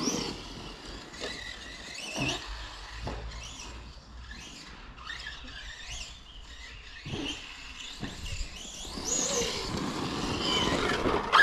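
Electric Pro-Line Pro MT 4x4 RC monster truck revving on an outdoor circuit, a whining motor rising and falling in repeated bursts with brief pauses, fairly close, with birds chirping in the background.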